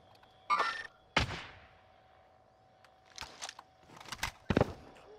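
Gunfire striking the player in Call of Duty: Modern Warfare, a few sharp separate bursts and thuds spread over several seconds with quiet gaps between.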